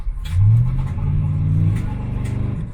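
A modded car named Wally, set up for race week with nitrous, revs hard in a deep, loud rumble that swells early, then holds a steady growl with a rising pitch sweep near the end.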